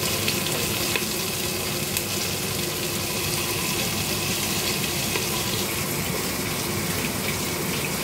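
Onions hit hot oil alongside crackled curry leaves, giving a continuous, even hiss of frying that stays loud and close with faint occasional ticks, no voices.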